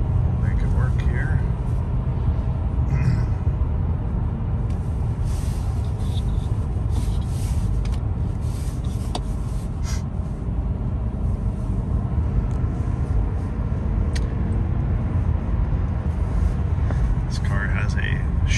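Interior drive of a 2015 BMW 228i coupe with a six-speed manual, a steady low engine and road rumble held at constant level, with faint rustles and a voice talking softly over it.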